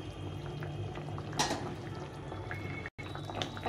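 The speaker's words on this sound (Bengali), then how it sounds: "মাছটা দিয়ে একটু ফুটিয়ে নেব।" Fish simmering in milk with giant taro in a pot: a steady bubbling, burbling boil with soft pops and gurgles, moderately close, continuous with one brief cut to silence, no voices.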